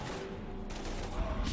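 Rapid gunfire in a Mass Effect 3 firefight against husks, a dense crackling fusillade with sharp bursts near the end, loud over steady combat noise.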